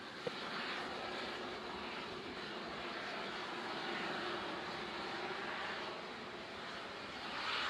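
A SpaceX Falcon 9 rocket climbs in flight with its nine Merlin engines firing, heard as a steady, distant, low roar that stays even and fairly faint throughout, with no talk.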